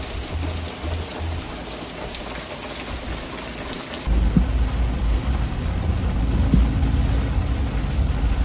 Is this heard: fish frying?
no